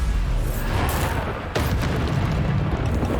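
A Bombarda explosion spell goes off in Hogwarts Legacy, a deep booming blast with a sharp burst midway through, set against a dense, loud rumbling game soundscape.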